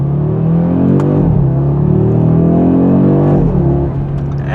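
Audi RS3 with all-wheel drive launching hard off the line, engine note climbing steadily and loud and close, with two brief dips as it shifts gears.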